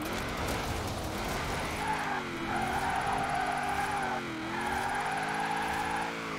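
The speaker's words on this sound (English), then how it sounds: "we're gonna have to do some back and forth little drifting here" A drift car in Forza Horizon 4 holds a sustained engine drone while its tyres squeal in long, wavering skids, easing briefly and returning as the car slides back and forth.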